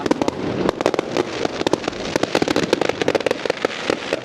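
Dense volleys of bonfire night fireworks popping and crackling across an outdoor Merseyside display, sharp bursts coming steadily and loudly with no one speaking.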